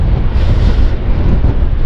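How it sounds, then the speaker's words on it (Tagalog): Strong wind roars and buffets the microphone in a steady, low rumble, with no voices heard. "pero yung hangin talagang sobra"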